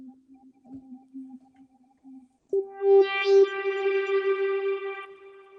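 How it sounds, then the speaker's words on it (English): A tonal sound with stacked harmonics swells in, rings loudly for a couple of seconds, then decays into a fading reverberant tail with no talking. "we can still hear a little bit from the reverb"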